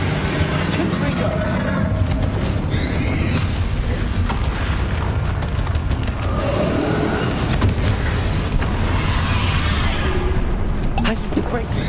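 Fiery Confringo spell blasts in Hogwarts Legacy, with booming bursts and crackling impacts over dense combat noise and music, continuous and loud throughout, with a voice speaking at points.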